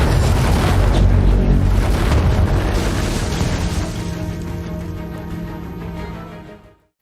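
A large metal craft crashes into the desert with a loud, deep boom that swells at once and then slowly rumbles away over several seconds.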